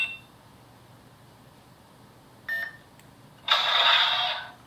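An electronic lightsaber hilt with a soundboard emits a short beep, then a brief burst of bright electronic tone as it switches to the next sound font, heard alone and close without talk.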